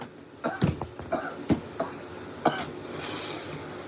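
A man coughs several times in quick, uneven bursts during a livestream, harsh throaty hacks close to the microphone, followed by a soft rushing background hiss.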